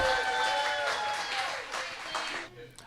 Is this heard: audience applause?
yes